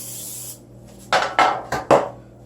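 Cooking spray hisses onto a cookie sheet while homemade biscuits are being made: four short, close, fairly loud bursts in quick succession after a quiet pause.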